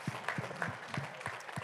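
Applause for boxer Mary Kom at a televised event, a soft, fairly distant burst of crowd clapping with faint voices mixed in.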